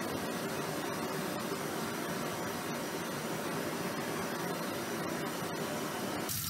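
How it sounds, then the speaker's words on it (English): A blowtorch darkening wood on a steampunk DIY knuckleduster, a loud continuous close roaring hiss that stays steady for the whole stretch with no talk. "Now I'm going to darken the wood with a blowtorch."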